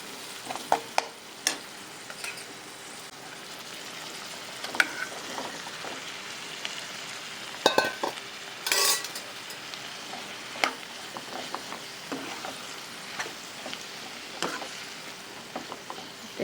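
Mashed potato is stirred and pressed around a frying pan, with a low continuous sizzle under scattered clicks and scrapes of the spoon, including a sharper clatter about halfway through.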